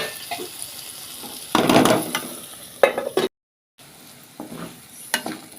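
Okra curry being stirred in a pan: spoon scrapes and sizzling bursts, close and moderately loud, with a brief silent gap partway through.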